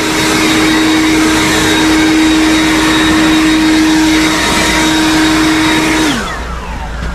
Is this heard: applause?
no